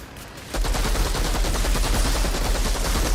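Minigun gunfire in the shooter Outriders, a sustained, rapid, loud stream of shots that starts abruptly after a quiet half second and keeps roaring without pause.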